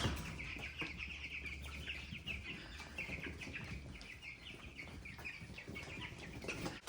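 Cornish Cross meat chicks in a brooder chirp and peep continuously as a crowded flock during a morning feeding frenzy, a steady high chatter at moderate distance with no voices.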